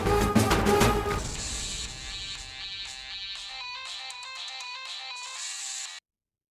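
A mobile phone ringtone plays loudly and nearly alone, starting with a dense burst and settling into a repeating melodic tone pattern that cuts off abruptly at the end.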